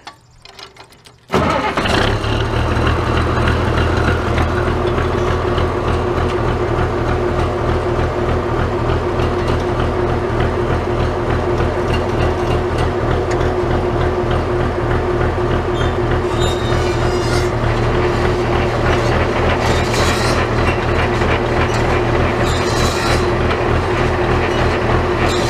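An old hay baler runs after it has just been threaded. It fires up after a second of quiet and then runs loud and steady, with a constant mechanical drone and a rhythmic clatter that continues to the end.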